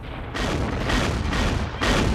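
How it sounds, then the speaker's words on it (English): Civil War artillery cannon fire at Winchester, heavy rolling booms that swell and overlap in dense bursts, loud and full across the clip. "Federal artillery blasted the Southerners with cannon fire, stopping the advance."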